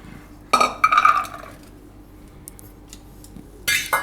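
Pieces of pumpkin are dropped into a metal pressure cooker, making a few brief clinks and clatters in separate bursts with quiet pauses between them.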